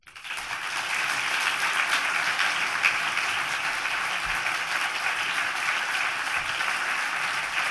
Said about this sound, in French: Et bravo Lise, qu'on peut applaudir bien fort encore